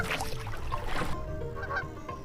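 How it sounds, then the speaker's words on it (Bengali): A duck's honking calls in the Bangladeshi video game Meena 2, several short loud honks in quick succession over a steady game background, with no talk. "এই হাঁসটাও আসছে"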